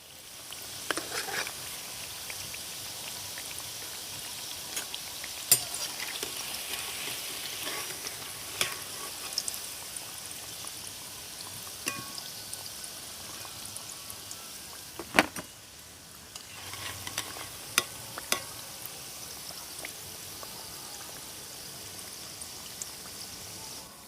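Chocolate-layered cookies fry in a pan as part of a homemade cookie recipe, giving a steady soft sizzle with scattered pops and light clicks throughout, moderately faint, with no talking.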